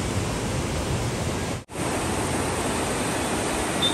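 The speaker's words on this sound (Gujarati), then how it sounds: "કેટલું સરસ પાણી જાય છે અને ચોખ્ખું કેટલું છે." Sahastradhara waterfall pours clear water in a steady, loud, broadband rush near a bridge and cave temple, with one brief dropout partway through; no voices.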